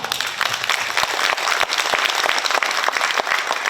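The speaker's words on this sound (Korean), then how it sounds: "이진희 회장님께 감사와 격려 박수" Audience applause at a Korean women's conference in San Francisco, steady dense clapping from a crowd, loud and sustained throughout.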